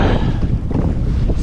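Strong wind buffets the microphone while a Pelican kayak is paddled on open water, a steady loud roar and rumble with faint splashing beneath and no talking.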